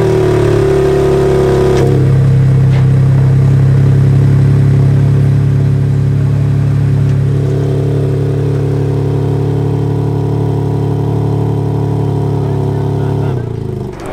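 A 2021 BMW M4 Competition engine runs loudly and close by, holding a steady deep drone with a shift in pitch around two seconds and another near seven seconds, then cutting off at the end.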